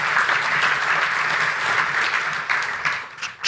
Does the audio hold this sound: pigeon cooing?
no